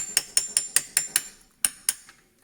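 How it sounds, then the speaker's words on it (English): A hammer strikes a steel punch to drive out a CV axle pin on a 2004 Subaru Impreza STi front axle. About eight sharp metallic taps come in a fast, even rhythm with a short pause before the last two. "So here I'm just going to take my punch with a hammer."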